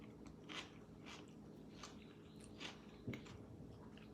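Crisp crunching bites into a lettuce wrap filled with tuna and avocado, several close, dry crunches spaced out at a steady chewing pace with no talking.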